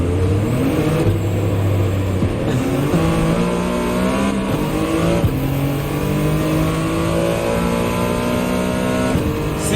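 Race car engine in the video game Gran Turismo, revving loud and steady across the whole stretch, pitch climbing through gear changes with repeated upshift drops and a faint tire squeal, no talking.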